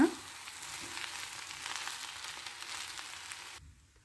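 Jeera rice with cumin is stirred in a hot pan, giving a soft, steady sizzle with light scraping. It stays close and fairly quiet, then cuts off abruptly near the end.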